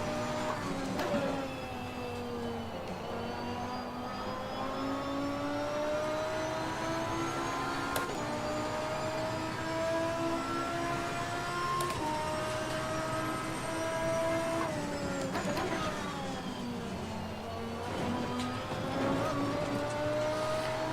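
A race car in a driving simulator game roars continuously through corners with terrible understeer, engine pitch rising and falling with gear shifts and throttle changes, loud and steady throughout.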